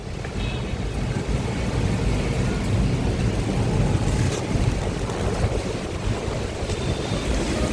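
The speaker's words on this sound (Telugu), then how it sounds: "ఫుల్ గాలి, వాన, వర్షం కూడా స్టార్ట్ అయిపోయింది." Strong afternoon wind and rain roar as a steady, dense wash of noise that stays loud the whole time, with gusty buffeting on the microphone and no talk.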